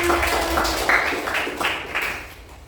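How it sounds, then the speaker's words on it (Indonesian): A class of children claps their hands together in quick rhythmic bursts, loud and close, with voices chanting along between the claps. "Tepuk tangan kita semuanya."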